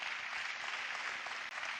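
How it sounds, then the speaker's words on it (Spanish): A church congregation claps during a Sunday service, a soft, fairly distant wash of steady applause with no voices over it. "Denle un fuerte aplauso a aquellos que recibieron a Jesús ahorita."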